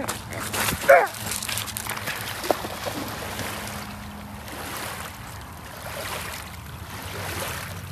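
A dog swimming after a latex toy gives a sharp bark near the start, followed by a fainter yelp, over steady splashing and running water.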